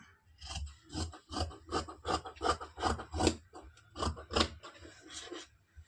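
Scissors snip through blouse lining fabric in a quick series of rhythmic, close-up rasping cuts, with no talking.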